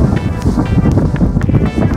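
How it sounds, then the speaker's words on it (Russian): Gusty wind in -36 degree frost near a frozen river buffets the microphone with low rumbling bursts, loud and uneven, rising and falling throughout. "ветер какой-то раздулся"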